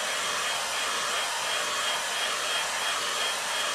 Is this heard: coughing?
no